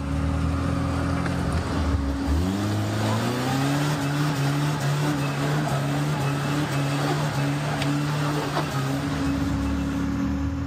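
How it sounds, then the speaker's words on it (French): Motorcycles and quad bikes grind through deep mud in near-freezing conditions, steady engine drone with a pitch rise around two seconds, rough and continuous, with faint voices beneath. "À travers la boue, les Russes se faufilent à moto ou en quad."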